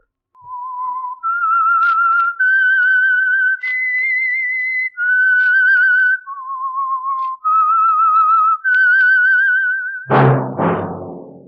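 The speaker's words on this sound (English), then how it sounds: "That whistle is your signal for the Signal Oil Program, The Whistler." A person whistles a clear, melodic radio theme tune of sustained notes for about ten seconds, followed by a sharp musical thunk at the end.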